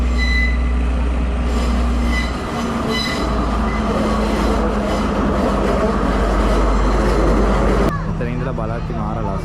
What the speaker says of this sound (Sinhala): මේ ට්‍රේන් එක ඇවිල්ලා මෙතනින් නවත්තනවා.